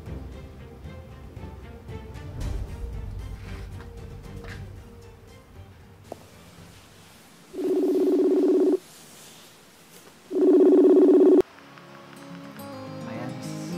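Telephone dialing tones from a phone call being placed, heard as two loud, steady tone bursts about a second long each, separated by a short gap, after a stretch of quieter background sound.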